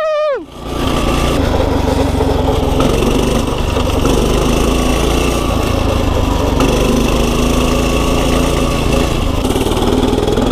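Free pit bike engine revving steadily and loud throughout a ride, a continuous buzzing drone with slight pitch shifts, faint voices over it.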